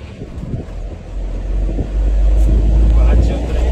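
A car's engine rises and swells as the driver accelerates during a driving lesson, a low steady drone growing louder with some wind noise and a few quiet voices underneath.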